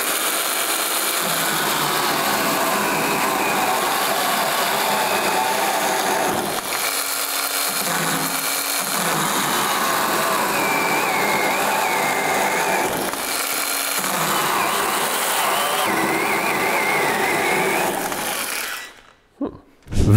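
Cordless 12V or 18V battery pole saw cutting through a branch, a steady loud motor whine sustained for most of the stretch with slight dips in pitch as the chain bites, then cutting off sharply at the end.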